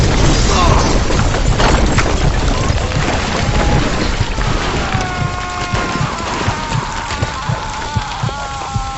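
A grenade thrown through a window in the video game Mafia 2 sets off a loud, rumbling blast that dissolves into sustained crackling debris and roaring noise, close and dense, with faint tonal game sounds rising toward the end.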